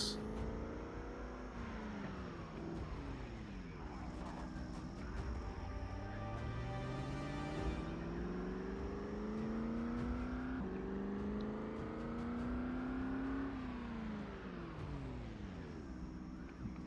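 A car drives along back roads in Project Zomboid. The engine hums and whines steadily, rising and falling in pitch through gear changes and speed shifts. It sounds close and moderately quiet, with no talk.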